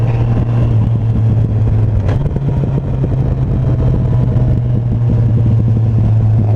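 A Yamaha FJR 1300 motorcycle holds a steady, loud engine drone while cruising winding country roads between Bordeaux and Marseille, with a brief pitch shift as the rider changes gear and constant wind rumble throughout.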